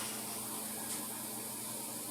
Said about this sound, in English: blow that brush out before you start spraying